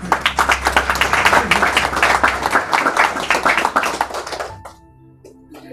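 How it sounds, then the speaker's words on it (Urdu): Scattered clapping from a church congregation, with a few sharp, uneven hand claps ringing out over a low hum, then dying away into near silence as a voice begins. "آپ کی بھرپور تالیوں میں"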